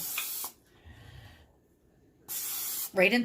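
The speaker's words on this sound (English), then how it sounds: "I'm going to spray them with my canola spray." Canola oil cooking spray misted onto food before it goes into an air fryer: two short, close hissing bursts separated by a quiet pause, with a brief voice at the very end.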